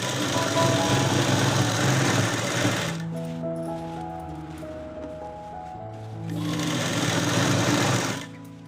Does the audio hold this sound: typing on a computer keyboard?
no